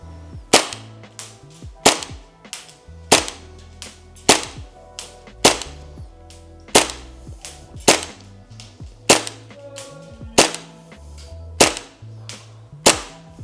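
Tokyo Marui H&K MP7 A1 gas blowback airsoft gun firing single shots on 110 PSI gas, sharp loud cracks with a slide clack, around eleven evenly spaced shots roughly a second apart, close and alone.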